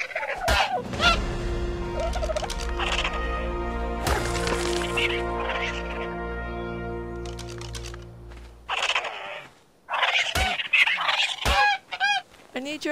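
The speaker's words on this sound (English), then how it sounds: "Ah, now I heard a dodo bird." Dodo bird in the game Ark Survival Evolved, a series of honking, gobbling calls heard alone, with harmonic squawks repeating over several seconds and sharper chirps near the end.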